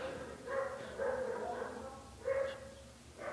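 A dog next door gives muffled bursts of barking and yips through a wall, faint and distant, coming in separate spells a second or so apart.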